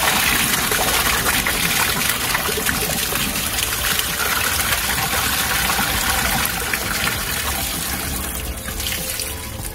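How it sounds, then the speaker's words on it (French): Waste pours out of an emptied camper van toilet cassette in a continuous loud gushing, splashing stream that runs the whole time and eases slightly toward the end. "Appuyez dessus, ça va permettre aux excréments de couler beaucoup plus rapidement."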